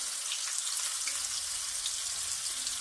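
Chopped large onion sizzling in plenty of hot oil for chicken danedar korma, a steady bright crackle and hiss throughout with no talking.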